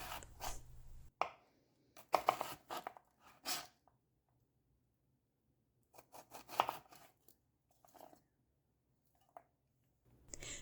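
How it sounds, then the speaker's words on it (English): A knife chops through onion in quick bursts of crisp cuts separated by pauses. The cutting is quiet and close, with no talking. "do like how quick onions are to cut up"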